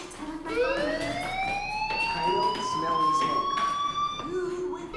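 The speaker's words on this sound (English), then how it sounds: "you hear that fire alarm?" A rising, wailing fire alarm tone in the video game Life is Strange sweeps up and holds steady for several seconds while people talk over it.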